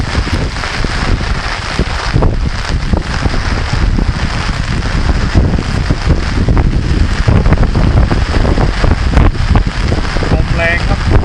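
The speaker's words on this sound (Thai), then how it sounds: "ลมแรงครับ" Strong wind from Storm Podul roars across Kham Cha-i district in Mukdahan, Thailand, as a loud, continuous buffeting rush mixed with rain noise that pummels the microphone for the full eleven seconds.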